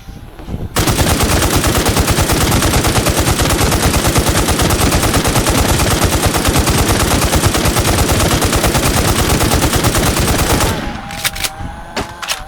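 Gunfire in the online shooter WarZ rattles in one long, loud burst of automatic fire lasting about ten seconds, then stops, leaving a few faint clicks and clatters.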